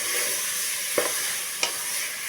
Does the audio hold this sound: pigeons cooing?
no